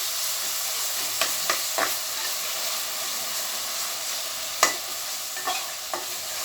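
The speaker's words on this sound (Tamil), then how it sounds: "அதையும் போட்டு நல்லா வதக்கிக்கலாம்." Sliced tomatoes sautéing in a pan for chicken biryani, a steady soft sizzle and hiss with a few sharp clinks and scrapes of stirring spaced through it, no voices.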